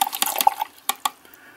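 Watercolour paintbrush swished and rinsed in a container of clean water: a few quick, close splashes and swirls, then fading drips into near silence.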